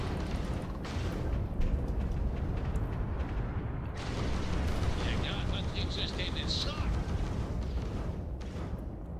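Gunfire and heavy blasts ring out in the space game Starfield, a dense rumbling barrage of shots and booms filling the scene with no clear talk over it.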